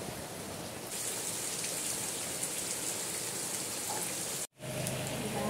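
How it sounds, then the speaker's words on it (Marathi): Heavy rain falls continuously in a Konkan village, a steady dense roar of drops that swells slightly after the first second and holds, briefly cutting out near the end. "कोकणात पडतोय पाऊस बघा"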